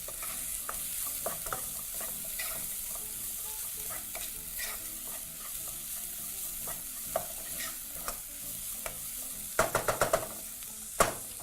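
Garlic and white onion fry in a pan with a steady, even sizzle, while a spoon stirs and scrapes at irregular intervals and a quick cluster of sharper clinks lands near the end.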